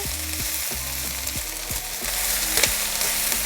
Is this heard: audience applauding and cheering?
no